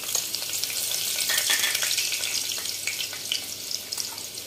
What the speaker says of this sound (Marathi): तेल तापल्यानंतर मी आता तर मिरच्या टाकणार आहे